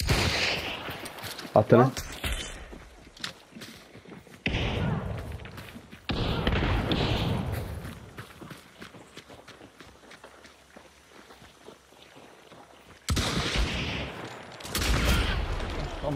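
Gunfire in the Hunt: Showdown 1896 shooter comes in loud, sharp bursts spread through the scene, with quieter footsteps between them and players talking over the action.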